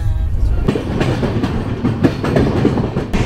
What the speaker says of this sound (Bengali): ট্রেন দক্ষিণেশ্বর স্টেশন ছেড়ে দিল।